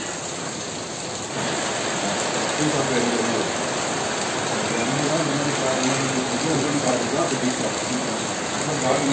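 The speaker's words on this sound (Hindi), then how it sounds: "मतलब इतनी खतरनाक वाली बारिश हो रही है" Heavy monsoon rain driven by wind in the Munnar hill station, a dense, continuous roar close by, with someone talking over it.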